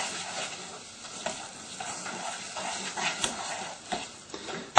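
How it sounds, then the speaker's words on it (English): Chocolate melting in a pan is stirred steadily, a continuous soft scraping and light sizzling texture with occasional small clinks of the utensil against the pan, close and fairly quiet with no voices. "Now to give this a proper stir, I'm just going to grab the handle, turn it round"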